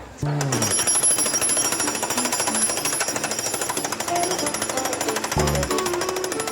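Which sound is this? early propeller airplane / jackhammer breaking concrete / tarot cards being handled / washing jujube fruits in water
jackhammer breaking concrete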